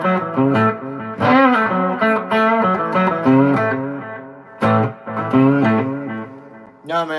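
Electric guitar with an overwound P90 dog-ear pickup, played clean through an amp's onboard reverb plus analog delay: melodic sustained notes and short phrases with lingering echoes, close and clear, no talking.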